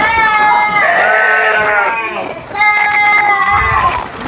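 Sheep bleat loudly at feeding time on a livestock farm given dry feed, several drawn-out calls overlapping, close by and continuous, with shuffling and movement noise underneath.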